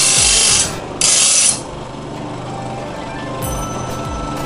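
An automatic sanding machine grinds along a katana blade, with harsh bright abrasive bursts that start and stop in short spells, followed by a lower continuous mechanical hum and scraping.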